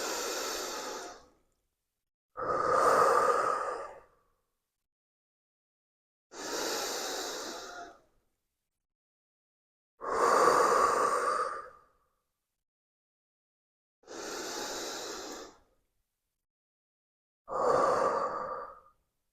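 Six deep, audible breaths during a breathing exercise, each a loud, close exhale or inhale lasting about a second and a half, separated by silent gaps in a slow, even rhythm.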